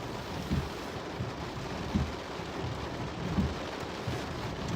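Heavy rain falls steadily during an October thunderstorm in western Washington, a dense, continuous hiss with low rumbling pulses underneath, with no voices.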